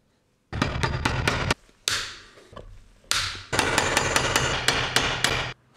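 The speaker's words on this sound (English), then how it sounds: "I want to reinforce the stitch here right at the corner on both sides with one of my rivets." Rivets hammered into the corners of a leather toolbag: two bursts of rapid, sharp metal-on-leather blows, close and loud, split by a short pause with a softer thud, with no talking.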